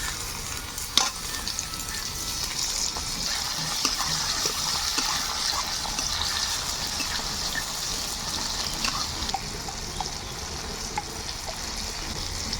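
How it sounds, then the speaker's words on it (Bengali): Chopped tomatoes hitting onions fried until browned in a pan, a loud, steady hiss of frying close up with scattered clicks and stirring scrapes throughout. "পেঁয়াজটাকে লাল করে ভেজে নিয়েছি, এবারে কুচিয়ে রাখা টমেটো ছেড়ে দেবো।"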